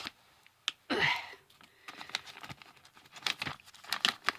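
Close plastic crinkling and ripping as toy packaging for a Glyos Armorvor figure is torn open by hand, with a burst of tearing, then irregular crackles and rustles building toward the end.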